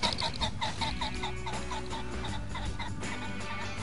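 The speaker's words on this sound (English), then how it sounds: "This squawking rooster's right in front of the lodge" A rooster squawks in front of a hunting lodge at a hunting club, giving a rapid series of rhythmic clucking calls over steady outdoor background noise.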